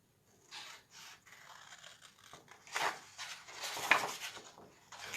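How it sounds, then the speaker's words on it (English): Paper bag flaps are creased along their edges with a bevel tool, making close, brief ratcheting scrapes and crinkles in short bursts with small pauses between strokes. "beveling is always a good idea on our flaps. So we're going to bevel."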